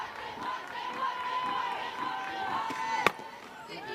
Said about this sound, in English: Cowgirl fans trying to cheer on the Cowgirls to get that run rule victory.